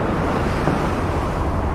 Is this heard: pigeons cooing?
no